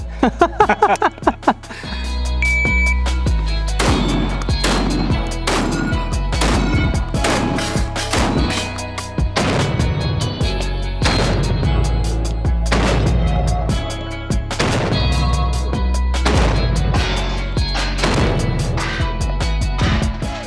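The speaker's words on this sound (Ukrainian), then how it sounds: "Зараз Олексій підпрацює перенос вогня по фронту в руках легендарної бінелі М4Т Pro." A rapid string of loud, close blasts from a Benelli M4 shotgun fired in quick succession, each sharp report ringing out over a continuous roar of echoes.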